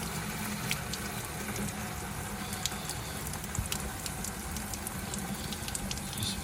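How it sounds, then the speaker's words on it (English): Water from an outdoor garden tap running into a watering can, a soft, steady hissing rush with faint spattering, close but quiet and unaccompanied by speech. "you can simply put it under this tap, making sure that this is selected to tap and not shower"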